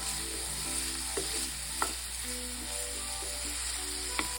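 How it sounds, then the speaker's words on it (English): Garlic sizzles in a frying pan with onion and celery, a steady close hiss with occasional sharper pops and stirring sounds, heard alone without talk. "Now I'm gonna add in my garlic."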